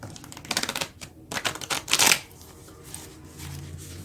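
Tarot cards are shuffled in quick riffling bursts, a close, crisp flutter of cards that swells to a sharp peak before trailing off into quiet handling.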